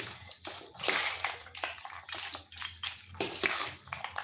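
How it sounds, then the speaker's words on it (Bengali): Tamarind juice being mixed by hand into a nimki snack with cucumber and onion, giving wet squelching and light clinking of a spoon against a bowl in a steady irregular rhythm, close up, with no talking. "তেঁতুলের রসটা একটু মিশিয়ে দিচ্ছি"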